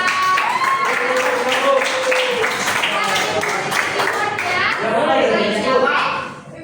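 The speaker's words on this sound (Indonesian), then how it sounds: "Tepuk tangan untuk Vira" A classroom of children claps hands for a classmate, scattered clapping mixed with lively children's chatter and voices throughout.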